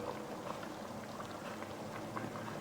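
A pot of Thai khi lek curry with beef skin bubbles at a steady boil, a dense, continuous simmering fizz with no talk.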